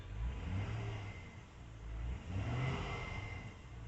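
A 2005 Chevy Suburban's engine revs twice from idle, a low rumbling swell rising and falling in two waves, recorded close but faint, with no talk.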